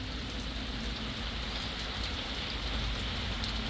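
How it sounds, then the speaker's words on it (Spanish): Heavy rain pours steadily onto a home during a strong storm, a dense, constant hiss of close downpour with no breaks and no voices. "Es que ha llovido demasiado"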